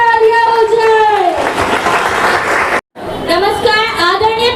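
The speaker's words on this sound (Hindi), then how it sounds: "एक और तालियां हो जाए।" A school audience at an Independence Day celebration bursts into applause, dense clapping swelling loudly for a couple of seconds between stretches of a voice speaking over a microphone, with a brief cut of silence.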